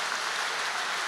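Dense, loud crowd applause at an alumni speaker event, a brief burst of continuous clapping heard close and alone.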